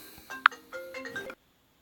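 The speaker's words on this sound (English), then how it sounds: "your phone just rang" A short phone ringtone chimes once in a quick melodic phrase of a few tones and cuts off abruptly, followed by silence, with no talking.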